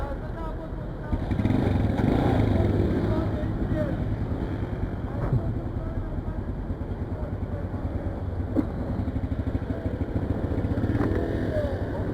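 A motorcycle engine idles and runs steadily nearby, a low rumbling drone that lasts throughout, with a voice faintly heard over it.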